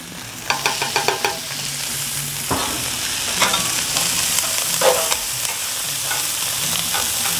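Sausage patties and onion sizzle on a Halo Elite 4B griddle, a steady close frying hiss broken by a quick run of metal spatula taps and scrapes early on, then softer scraping later, with no talk.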